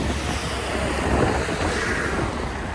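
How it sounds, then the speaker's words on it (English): Wind blusters outdoors near parked dump trucks, a loud, steady rushing roar buffeting the microphone without a break. "It's very windy out here."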